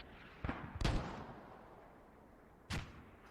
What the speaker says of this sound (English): that calf marks from rifle rattling off in the distance